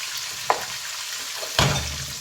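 Onions frying in preheated oil for an aloo baingan dish give a steady, close hiss. Two sharp stirring knocks break through, the second followed by a louder burst of sizzle.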